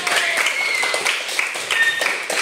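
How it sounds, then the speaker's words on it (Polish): At a children's talent show in Bielsko-Biała, an audience claps and cheers for performers on stage, with bright, excited voices and whoops riding over the scattered applause. "brawa dla każdego z was, kto tutaj się pojawił na scenie"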